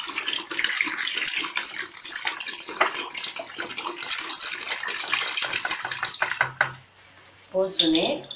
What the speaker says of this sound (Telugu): ఇప్పుడు ఈ దీంట్లో ఈ కోమియాని ఫుల్గాను 3 బాటిల్ 2 బాటిల్ ఎంత ఉంటేనో ఎత్తి ఇట్లా ఫుల్గా పోసుకోవాలి